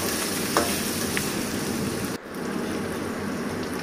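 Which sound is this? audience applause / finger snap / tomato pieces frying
tomato pieces frying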